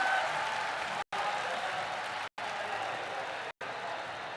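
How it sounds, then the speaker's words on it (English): An esports arena crowd at the Shanghai Major Dota 2 main event applauds and cheers in a dense, sustained roar, cut by three brief dropouts of silence. "the crowd goes wild for Twan."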